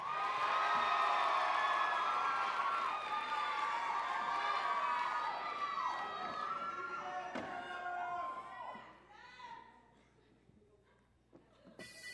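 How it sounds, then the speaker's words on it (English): Audience at the Mr. Wayzata 2018 pageant bursts into loud, sustained cheering and applause for Luke, staying dense for several seconds before thinning out and fading near the end. "big round of applause for Luke,"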